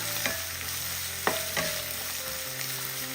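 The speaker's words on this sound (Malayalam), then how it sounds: "ഇത് ഒരു ഗോൾഡൻ നിറം ആവുന്നത് വരെ ഒന്ന് ഇളക്കി കൊടുക്കാം." Oil sizzles steadily in a pan with frying onions while a spatula gives a few sharp scraping stirs, with a low hum in the background.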